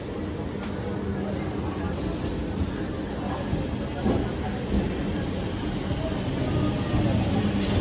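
A local train running from Jadavpur to Namkhana rumbles steadily from inside the carriage, with a constant rolling roar, occasional clanks, and background passenger chatter.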